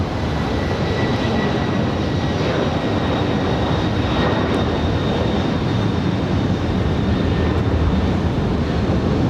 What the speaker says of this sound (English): Heading back to London in that 777-300ER.